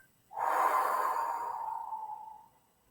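Children exhale together through the mouth, one long breathy whoosh that swells quickly and then fades over about two seconds, close and fairly soft, with no talking.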